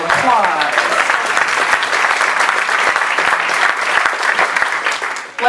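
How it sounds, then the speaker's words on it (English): A crowd at a community First Citizen award event applauds warmly, a dense, steady wash of clapping that holds at even volume for several seconds. "give him a round of applause"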